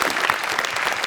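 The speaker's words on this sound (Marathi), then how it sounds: "जोरदार टाळ्या." A comedy-show audience claps hard, a dense and steady burst of applause that fills the whole moment with no talking.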